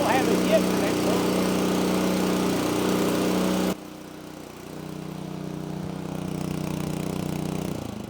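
A Honda GX160 engine on a Titan PB-4700 pressure washer runs steadily nearby, a loud continuous drone that drops briefly in level midway before settling back, with someone talking faintly over it.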